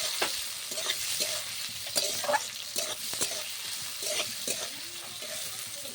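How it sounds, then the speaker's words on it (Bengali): Chopped onion frying in hot oil in a pan, a constant close sizzle broken by regular scraping strokes of a spatula stirring, no talk. "এবার দিয়ে দেব পেঁয়াজ কুচি, ভালো করে পেঁয়াজ কুচিগুলো ভেজে নিতে হবে লাল করে।"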